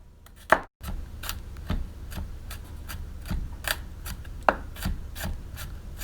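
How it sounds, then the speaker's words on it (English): A knife dices garlic on a cutting board, producing a series of crisp, close chopping taps at an uneven rhythm, with light scraping between strikes. "And now we're gonna be dicing the garlic."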